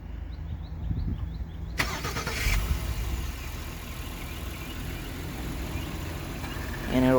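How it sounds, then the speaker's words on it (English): A 2023 Honda Passport EX-L AWD starts by remote start, with a sudden crank and catch that settles into a steady idle close by and a chime sounding near the end. "to use the remote start, just make sure the vehicle is locked, and then press and hold the remote start button."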